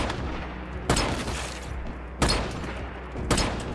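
Three separate bursts of rapid gunfire crack out from a firearm in the post-apocalyptic shooter Once Human, each volley loud and short, spaced about a second apart.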